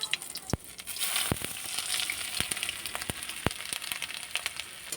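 Hot oil sizzles in a heated wok, a steady low frying hiss dotted with sharp irregular pops and crackles, close and alone with no talking.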